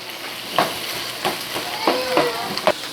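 Nacho ingredients sizzle and crackle steadily in a little vegetable oil over high heat, with several louder stir-and-scrape accents spaced through the clip.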